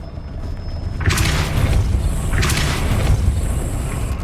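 Depulso spell cast in the Hogwarts Legacy video game: a sudden deep boom with a whooshing burst that swells and then recurs a second time, loud and near over a low ambient rumble, with no talking.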